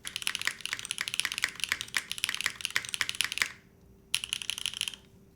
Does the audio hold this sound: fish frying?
no